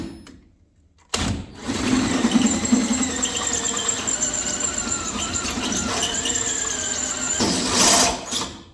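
A power tool fitted with a carbide bit cuts during engine-swap work on a lowered vehicle, starting abruptly after a quiet second and running as a loud, steady, close whine with a strong surge near the end, no talking.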